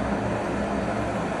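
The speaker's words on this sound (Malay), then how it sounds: "Bunyi macam api dapur restoran tu." A portable camping gas stove with a magnetic canister burns at full power, giving a steady, dense roaring rush of flame close up with no talking.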